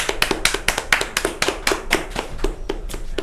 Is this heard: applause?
yes